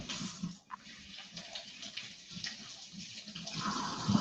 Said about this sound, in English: Then we wash them inside and out.